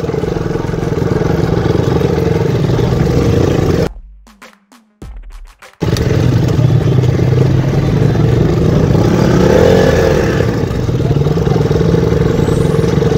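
A motorbike engine runs steadily at idle close by after pulling over, cutting out briefly midway before resuming its low constant rumble with some scraping noise, and no talk over it.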